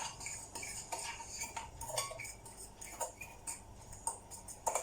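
Melted butter ghee being mixed into gulab jamun dough in a bowl, with quiet, irregular clinks and taps of a utensil against the dish.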